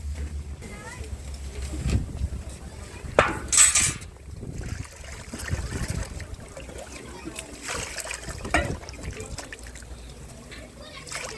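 Water poured into a clay pot (matka) to fill its empty upper third for a jaggery and gram-flour fertilizer mix, giving close splashing and sloshing with a louder gush midway, mixed with background clatter and other noise.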